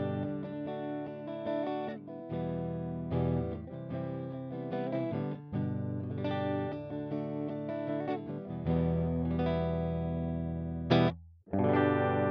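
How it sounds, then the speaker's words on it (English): A Flamma E1000 guitar with no effects plays chords and melodic lines in a dry, clean tone, steady and close, with a brief break near the end before it resumes. "this is the normal tone of the guitar."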